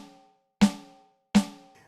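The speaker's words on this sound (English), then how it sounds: "and the rim sounds like this." Rim hits on a steel snare drum sound of a Roland TD-07KV electronic drum kit, two bright, sharp cracks about three-quarters of a second apart with a ringing tail, clean and isolated.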